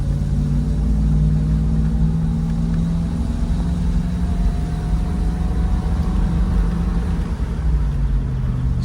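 A 1970 Triumph Stag driving on country roads, its engine holding a steady, loud, close rumbling drone with a low throbbing hum and a slight rise in pitch partway through, with no talk.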